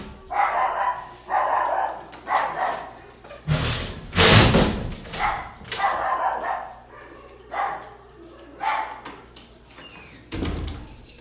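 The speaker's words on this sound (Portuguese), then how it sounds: "tem um cachorrinho latindo em frente à minha casa" A small dog barks repeatedly in front of a house, short loud bursts in an irregular rhythm over several seconds, with a couple of heavy thumps mixed in.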